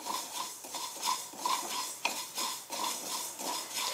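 Cumin and other spices for gooseberry pickle are dry-roasted and stirred in a pan, giving a steady, close-up scraping and rattling with rhythmic strokes and a faint sizzle underneath. No one speaks.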